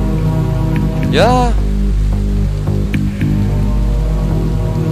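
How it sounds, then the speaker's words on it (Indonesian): Steady rain hisses loudly throughout a horror video game set in the Pamali Pocong DLC, with a brief voice and a rising musical swell partway through, plus low ambient drones underneath. "Oh, hujan."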